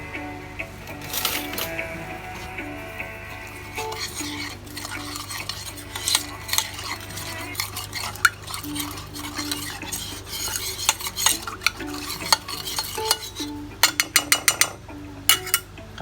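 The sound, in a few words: stirring spices into meat for a Moroccan dish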